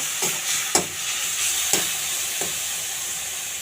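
Spices fry in a pan for eggplant bharta with a steady bright sizzle, punctuated by a few sharp stirring scrapes and knocks of a spoon against the pan, close and without speech.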